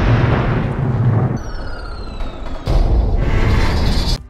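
A loud explosion from the animated film WALL-E gives a heavy, rumbling roar. It drops briefly to a quieter stretch with whistling high tones, then bursts back in full force before cutting off.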